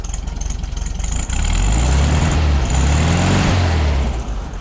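A rebuilt 1965 Volkswagen Beetle engine with a sunroof-equipped body runs steadily at a close, loud idle, its low rumble swelling slightly partway through and holding even with no voices.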